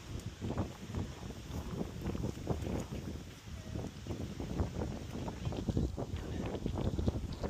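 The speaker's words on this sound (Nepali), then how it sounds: "हावा सरर चलेको" Wind blows steadily outdoors on a hilltop, rumbling and buffeting against the microphone with continuous gusty roar and some rustling, loud and close, no talking.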